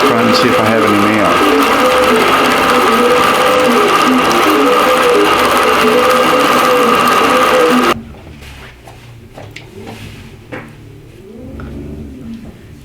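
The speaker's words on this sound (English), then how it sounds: "That's another quilt off of the quilt frame using the Bernina Q24 and the IntelliQuilter." A Bernina Q24 longarm quilting machine run by an IntelliQuilter stitches a quilt on a frame with a loud steady mechanical whir for about eight seconds, then stops abruptly, leaving quiet room noise with faint movement and a soft voice.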